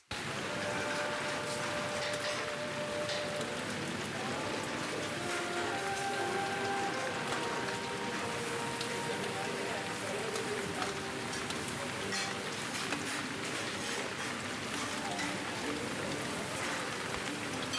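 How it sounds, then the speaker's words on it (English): Steady rain ambience for a Blade Runner city soundscape redesign, a dense, even hiss of drops on surfaces running continuously and quietly, with faint tonal city sounds layered beneath. "Rain's a little loud."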